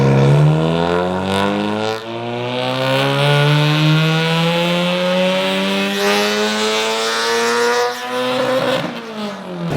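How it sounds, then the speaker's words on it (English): A loud built Nissan SR20-engined car revs on a dyno while being set up, its engine note holding steady then climbing in pitch, close and continuous with no talk over it. "This car is loud, bro."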